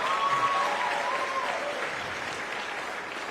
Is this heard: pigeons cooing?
no